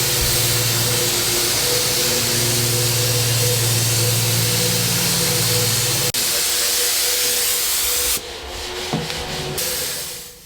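A spray gun coats a dining table with paint, giving a loud steady hiss with a hum underneath. It cuts off abruptly partway through, leaving quieter hissy noise and a few faint knocks.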